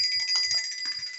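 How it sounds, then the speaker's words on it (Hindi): A bright, ringing bell sounds repeatedly in quick succession, its metallic tone sustained and fairly loud throughout. "थोड़ी सी घंटी बजा लें"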